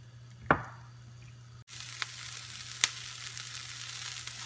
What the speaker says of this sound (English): Peppers have been sauteing for about 4 minutes